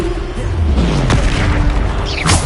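Bombarda spell blast in the video game Hogwarts Legacy, a loud booming burst with a sharp crack midway and another whooshing burst near the end, over a constant rumbling game background.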